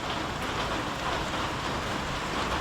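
Steady, dense rain pours down during an outdoor fishing trip, a continuous hiss with no breaks and no voices.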